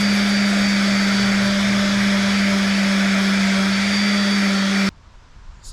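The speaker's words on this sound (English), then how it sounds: "So we got it sanded down here at a nice and level." A power sander runs loud and steady against a forged carbon-fibre intake for about five seconds with a strong constant whine, then stops abruptly, leaving quiet room noise.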